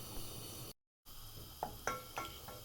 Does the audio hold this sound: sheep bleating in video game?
no